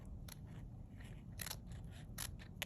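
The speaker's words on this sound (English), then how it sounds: "I'm cutting right up to, but not into" Scissors snipping wire armature material up to the stitching, several quiet sharp cuts spaced unevenly over a low background hum.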